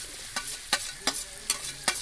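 Ginger garlic paste for Kerala beef fry sizzles in a pan, with five evenly spaced stirring scrapes against a soft frying hiss, close up and without speech.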